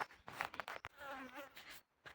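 Mosquitoes buzz faintly in a village garden, a thin wavering whine heard up close between soft rustles.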